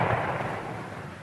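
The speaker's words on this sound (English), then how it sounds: "Those are the sounds of celebration. Cannon fire." Celebratory cannon fire from historic Fort McClary booms in a dense, rumbling roll, loud and continuous, with no talking over it.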